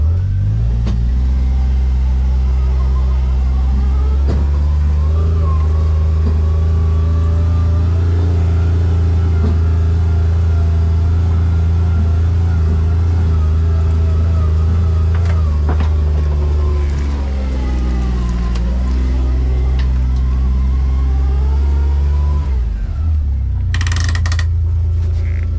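A four-wheel-drive vehicle's engine drones loud and steady while driving across rough ground on an off-grid homestead, its pitch shifting as it works, with a brief clatter near the end and no talk.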